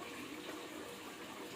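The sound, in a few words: water being taken from a tap to fill a toy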